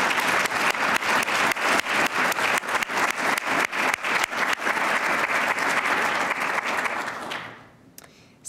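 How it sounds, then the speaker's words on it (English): Loud, dense applause from a summit audience for the speakers and partners, a full roomful of clapping that holds steady for about seven seconds and then fades quickly to near silence. "please join me in a round of applause for all of our speakers and partners"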